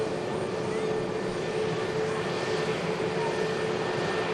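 An Aer Lingus ATR turboprop arriving from Dublin at Manchester Airport produces a steady, moderately distant engine drone with a faint propeller hum, unbroken throughout.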